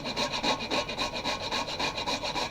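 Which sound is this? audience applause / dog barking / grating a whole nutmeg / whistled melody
grating a whole nutmeg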